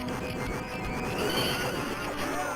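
A horse neighs in the arcade game Knights of the Round, a rising whinny over busy game sound effects and music, with no talking.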